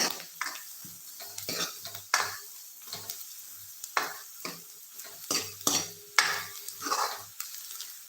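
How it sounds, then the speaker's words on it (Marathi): Over medium heat, a ginger, coconut and garlic paste sizzles in a tempering as a spoon stirs and scrapes the pan in irregular, close strokes with occasional metallic clinks. "मिडियम गॅसवर छान फोडणी करून घ्यायची आहे"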